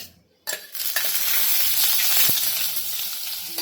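Ground green chilli, ginger and garlic paste dropped into hot oil in a kadhai, bursting into a loud, steady sizzle after a brief quiet moment, with a faint clink of a utensil partway through.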